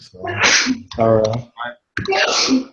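A person sneezes loudly and close during a group homework session, a sharp burst amid brief spoken words from nearby people.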